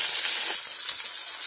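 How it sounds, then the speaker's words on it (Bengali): Koi fish frying in hot oil gives a steady, close, fairly loud sizzle that fills the whole stretch without speech. "মাছটা ভাজা হয়ে গেছে,"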